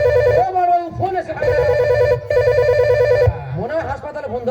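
A telephone rings in repeated electronic trilling bursts with brief gaps between them, loud and close, with voices speaking over and between the rings.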